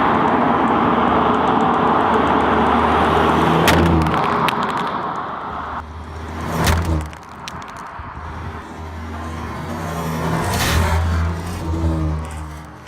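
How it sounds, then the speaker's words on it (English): A car rolls over smartphones laid on pavement, its engine rumbling loudly and steadily up close, with a few sharp crunching thumps as the tires pass over the phones. "I'm going to run these guys over with my car and see which one can fare better"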